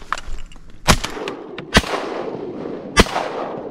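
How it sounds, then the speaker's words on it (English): Three loud shotgun blasts at teal ducks on a Louisiana public-land walk-in hunt, close and booming with ringing decay, spaced unevenly about a second apart. "Good shooting."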